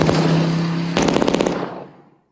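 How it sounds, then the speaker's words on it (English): FBI agents fire on a fleeing roadster in The Rocketeer, a short fusillade of rapid gunshots that ends in a quick crackle and then fades out. "The Roadster disappears in a hail of FBI gunfire."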